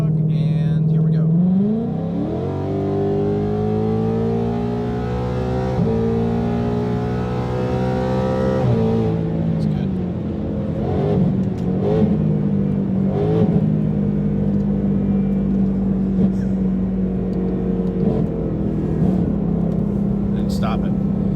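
Engine of a 2018-2019 Ford Mustang fitted with headers and running on E85 revs loudly through rising and falling pulls, its harmonics climbing during a sustained run of about twenty seconds, with some talk mixed in.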